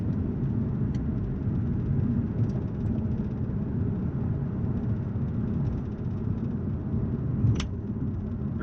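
A supercharged Mercedes Kompressor with a manual gearbox gives a steady low engine rumble and drone heard from inside the car as it pulls under acceleration, with faint ticks on top and no speech.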